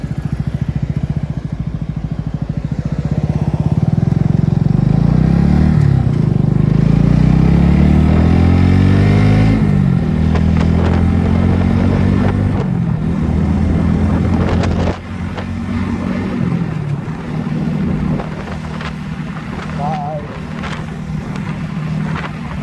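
A motorcycle riding on a road after refuelling, its engine droning steadily close by, with shifting engine tones and wind noise throughout and no talk.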